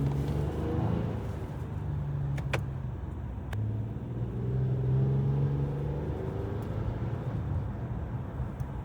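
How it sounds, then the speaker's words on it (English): A 2024 Toyota Camry XSE V6 fitted with an aftermarket intake drones steadily from inside the cabin, a low engine hum carrying a faint whine, with a few sharp clicks over it and no talking. "I added this intake and you can actually hear like a little whine to it."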